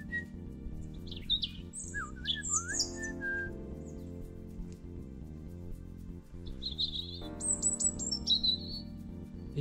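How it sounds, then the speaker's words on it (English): A robin sings from a tree overhead on a countryside walk, its bright, high warbling phrases coming in short bursts, with a pause between two phrase groups, over a steady low background rumble. "we've got a robin singing away in a tree up there"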